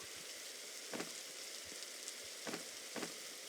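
Rain in a Roblox survival game hisses in a soft, steady wash, quiet and continuous, with a few faint taps and crackles and no talk.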